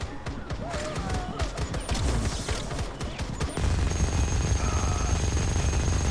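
An anti-aircraft gun turret fires in the video game FireFall: rapid, loud bursts of heavy gunfire that swell into a continuous roaring barrage.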